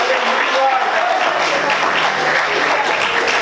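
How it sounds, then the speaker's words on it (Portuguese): A church congregation claps steadily in praise during a Portuguese-language sermon, a dense, continuous wash of applause filling the hall from start to finish. "Aplauda o Senhor, querido."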